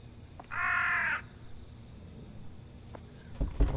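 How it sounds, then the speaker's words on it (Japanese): A single loud crow caw rings out in a horror video game set at a bathhouse, over a constant high insect-like drone, followed by a few faint clicks and soft thumps. "カラスもいるしね"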